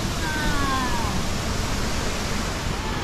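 A waterfall on Wang Chung stream in Hong Kong roars as a steady, dense broadband rush, continuous and fairly loud throughout with no clear talk above it.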